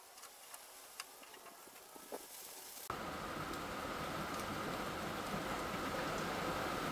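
Rain falls steadily outdoors on a porch during screen replacement. A light patter abruptly thickens into a dense, loud, continuous downpour hiss about midway through.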